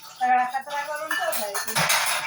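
Dishes being washed at home, with pots and pans clinking and clattering close by in a few bright metallic knocks, while people talk over it.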